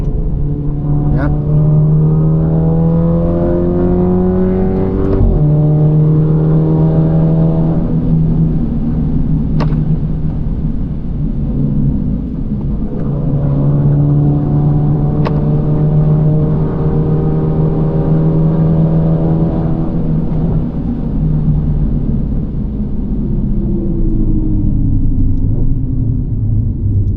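Alfa Romeo Giulia 2.0T fitted with a big turbo, heard from inside as the engine accelerates hard with rising and falling rumbling revs through several gear pulls, loud and steady throughout, with faint talk now and then.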